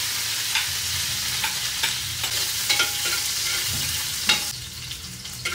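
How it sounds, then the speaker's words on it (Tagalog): Garlic sautéing in a hot pan for pinakbet, a steady close sizzle and crackle with occasional scrapes and clicks of a utensil stirring, no voices. "gigisa po tayo yung bawang"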